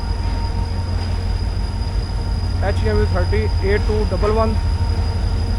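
Tezgam passenger train hauled by the Rawalpindi Queen passing on the Karachi to Rawalpindi line, a loud steady rumble of wheels on rails with squealing tones mid-pass, while someone talks over it.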